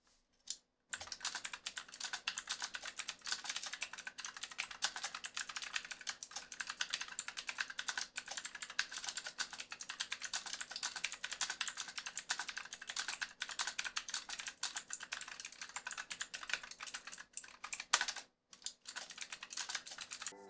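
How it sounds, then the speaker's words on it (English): Rapid, continuous typing on an RGB typewriter-style mechanical keyboard with clicky blue switches, a dense stream of sharp close-up clicks for about twenty seconds, with brief pauses near the start and near the end. "There are blue switches, however, so they have a nice clicky sound"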